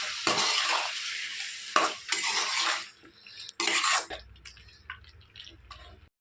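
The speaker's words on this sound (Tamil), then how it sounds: "நான் தக்காளி சேர்த்து சிம்லேருந்து மீடியம் ஃப்ளேம் வச்சு வதக்கிட்டு இருக்கேன்." Tomato sautéing on medium flame for a Mughal chicken curry: bursts of spoon stirring and scraping against the pan, with metallic clinks and a faint sizzle between them, fading to quieter scrapes toward the end.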